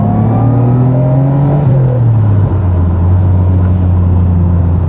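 Nissan GT-R accelerating up to road speed, a steady close engine drone with rising harmonics that dips briefly at a gear change and then carries on, loud and continuous with no talking.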